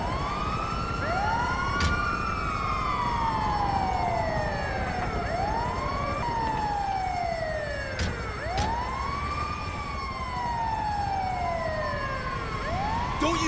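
An ambulance siren in GTA V wails in repeated rising and falling sweeps, loud and continuous, with a couple of sharp bangs breaking through.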